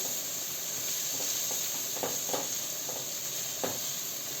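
Two medium carrots sizzle and fry with browned onion in a pan, a steady close hiss with occasional soft stirring scrapes and crackles, no voices.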